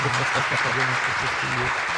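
Studio audience on a morning salsa program applauds in a steady, dense wash of clapping, with a voice speaking over it throughout.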